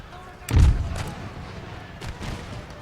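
Artillery volley in Empire: Total War, a deep booming report that thumps once loudly, followed a moment later by a fainter second boom, set against a low battlefield background.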